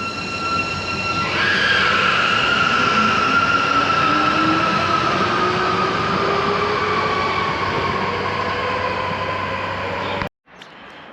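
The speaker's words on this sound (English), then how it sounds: "the train's just come in on the other side" A train pulls into a station in Mallorca on the far platform, rumbling steadily with a falling wheel squeal for about ten seconds before the sound cuts off abruptly.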